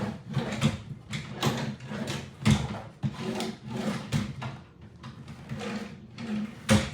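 Drawers of a five-drawer under-desk storage cabinet slide open and shut repeatedly, a quick series of rubbing strokes with soft knocks, close and clear with no talk.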